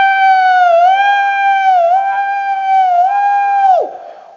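A voice imitates an ambulance siren during a religious sermon at a Quran recitation gathering, holding one loud, steady wailing tone with gentle pitch wobbles for nearly four seconds before it drops off abruptly.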